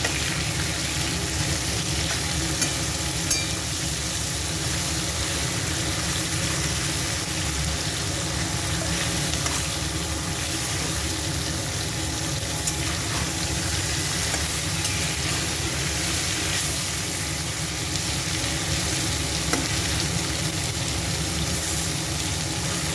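Food fries gently in a pan, not too crisp, with a constant broad sizzle and faint crackle running evenly throughout, close and moderately loud, with no talking.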